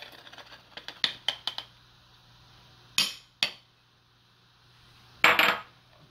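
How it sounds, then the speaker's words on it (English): Dry cookie ingredients are whisked in a bowl: a quick run of light metallic clicks and taps, then a few separate louder bursts of rattling wire against the bowl with short pauses between. "sifting this together, whisking this together"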